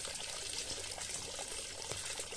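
Pond water pours steadily into an aquaponics system built on roof tiles, a close, continuous splashing trickle with no pauses.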